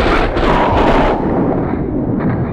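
Heavy gunfire in the Max Payne 2 video game, a loud continuous roar of booming, explosive-sounding shots that thins out and fades slightly toward the end.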